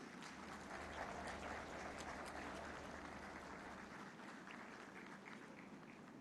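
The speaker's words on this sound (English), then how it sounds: "Mr. Mia Mohammad Shehbaz Sharif, to the stage to address this august gathering in your big round of applause." A ceremony audience at a Textile Expo applauds as Prime Minister Shehbaz Sharif comes to the stage, a steady, dense wash of clapping heard faint and distant.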